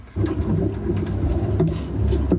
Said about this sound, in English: Rain shower.